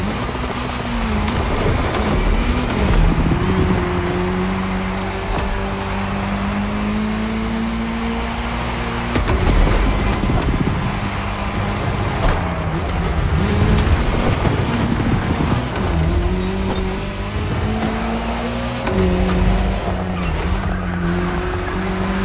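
Race cars in The Crew Motorfest tear along tarmac on a cross-terrain course, engines revving up and down under repeated tire squeals and skids, loud and constant without any voices.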